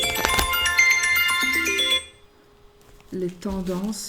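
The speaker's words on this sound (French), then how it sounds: "C'est mon alarme." A phone alarm rings with a bright repeating melodic tone, then cuts off, after which someone speaks in French.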